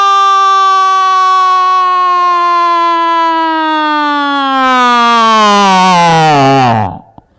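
A comedian on a comedy club stage imitates an old-fashioned police siren with his voice, making one long, very loud wail that slowly slides downward and cuts off abruptly at the end.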